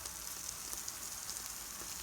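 Steady, soft sizzling of scrambled eggs frying in a pan, a continuous crackly hiss with faint pops, no talking.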